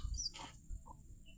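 Hens in a wire-mesh chicken coop give faint, short clucks at a distance, scattered over low background rumble.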